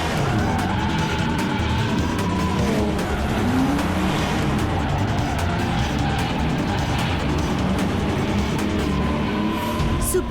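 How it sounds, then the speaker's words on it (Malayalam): A cartoon car speeds away in a continuous loud engine roar with tire-squeal hints, sustained and close throughout, no talk over it. "സൂപ്പർ സ്പീഡോ, ആ കാർ വളരെ സ്പീഡായിട്ട് പോവാണ്."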